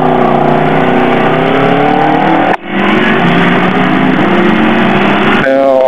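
Naked motorcycle engine revving hard while pulling away on a track, a steady loud drone with rising harmonics, briefly cut out midway then resuming and climbing again.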